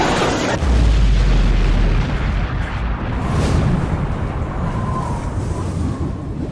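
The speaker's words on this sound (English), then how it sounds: "this hands down is the best explosion that she has done up to this point" A huge anime explosion from Megumin's spell in Konosuba erupts with a deep, loud boom, then rolls into a long rumbling roar that sustains and slowly fades over several seconds, with no talking.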